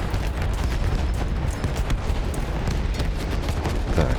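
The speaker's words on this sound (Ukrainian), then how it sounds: "Короче, дубасим на зенитке." Rapid anti-aircraft gunfire in the video game Battlefield 1, a dense, continuous barrage of booming blasts and rumbling explosions, loud and unbroken throughout, with no talk.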